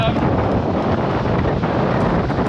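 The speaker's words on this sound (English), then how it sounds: "let's try and get out of the wind and you might be able to hear us a bit better" Strong wind buffeting the microphone outdoors on an exposed running route, a loud continuous low rumble with no pauses across the whole moment.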